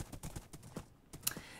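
Horse hooves clop across flat desert ground in a video game, an even, steady rhythm of muffled hits at moderate volume, with one bright click near the end.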